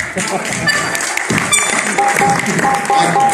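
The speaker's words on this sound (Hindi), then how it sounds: "जिनके हाथ अच्छे हैं, पाकीज़ा है, वो ताली बजाएं, बाकी ना बजाएं।" An audience claps along during a live performance of the qawwali song Dama Dam Mast Qalandar, scattered hand claps mixed with music and a voice, steady and fairly loud throughout.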